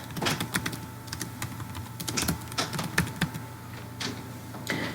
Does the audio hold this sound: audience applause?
no